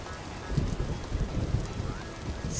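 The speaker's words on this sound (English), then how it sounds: "Rain and the thunder makes it harder to hear." Steady rainfall hissing in the video game Vintage Story, with deep thunder rumbling underneath, a continuous wash of storm sound that stays fairly even throughout.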